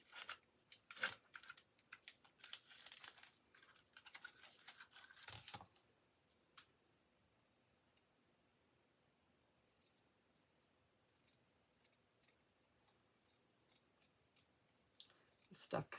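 Scissors snip through sparkly rhinestone ribbon in quick, crisp close cuts for the first few seconds, then the sound drops to near silence with only faint rustles and a couple of final snips.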